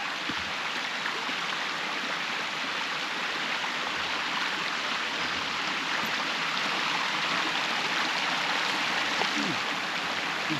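Stream water flows steadily at a swimming hole along the Six-Foot Track in the bush, a soft, continuous broadband rush with no talking.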